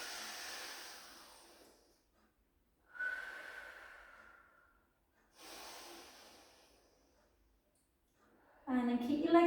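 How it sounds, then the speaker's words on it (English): Two deep, audible breaths during a Pilates side-bend stretch, each a long airy inhale and exhale with pauses of near silence between, followed by a voice speaking at the end. "Take a beautiful breath in"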